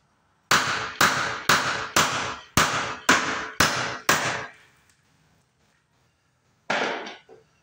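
Hammer blows driving a nail into a wall during wall and window opening work: seven loud, evenly spaced strikes, a pause of near silence, then one more hit.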